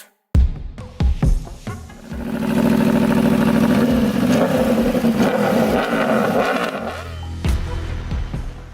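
An Aprilia RSV4 RF sport motorcycle engine revs hard, rising from sharp throttle blips into a sustained, loud, high-pitched roar up close, then settling back with a few more blips.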